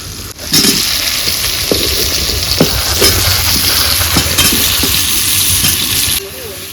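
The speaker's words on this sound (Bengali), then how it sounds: "ওই তেলের মধ্যে একটু জিরা সম্বার দিয়ে দিলাম, আলুগুলো, টমেটোগুলো, এবার ওলগুলো দিয়ে দিচ্ছি" Elephant foot yam, potatoes and tomatoes fry in oil with cumin, a steady loud sizzle running throughout with scattered stirring clatters, ending abruptly near the end.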